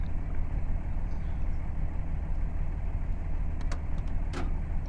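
A car engine drives in the DayZ Epoch video game, a steady low rumbling hum with a few brief clicks near the end, moderately loud and continuous.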